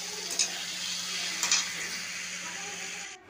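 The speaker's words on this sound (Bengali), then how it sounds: "এখন বেগুনি ভাজছে" Beguni, batter-coated eggplant fritters, sizzle steadily in hot oil in a home kitchen, with a couple of brief sharper crackles and a close, continuous frying hiss that cuts off at the end.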